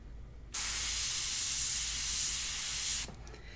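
An airbrush sprays India ink in one steady, close hiss lasting about two and a half seconds, with quiet room noise before and after.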